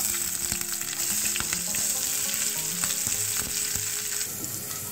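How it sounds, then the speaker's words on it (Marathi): Garlic and finely chopped onion fry in hot oil, a constant close sizzle with crackles and occasional stirring scrapes, loud and even for several seconds, no talk. "लसूण थोडासा झाल्यानंतर आपल्याला यामध्ये एक छोटा बारीक चिरलेला कांदा टाकायचा आहे"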